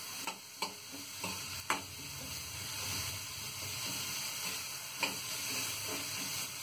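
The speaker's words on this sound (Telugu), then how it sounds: "ఉల్లిపాయలు, పచ్చిమిర్చి వేసి వేయించుకోవాలి." Onions and green chillies fry in a pan with a steady close sizzle, broken by a few sharp clicks and scrapes of stirring.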